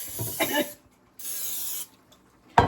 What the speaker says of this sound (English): Spray your pan, sit your pan to the side.